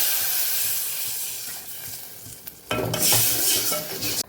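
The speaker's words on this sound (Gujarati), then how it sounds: "અહીંયા 1 વાટકી જેટલું પહેલા પાણીનો વઘાર કરશું આપણે" A loud burst of sizzling and hissing as about a bowl of water hits a hot spiced-oil tempering in a pan for kadhi, following a quieter stretch of faint kitchen noise.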